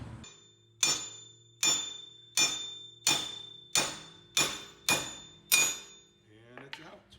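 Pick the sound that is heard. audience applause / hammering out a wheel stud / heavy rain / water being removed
hammering out a wheel stud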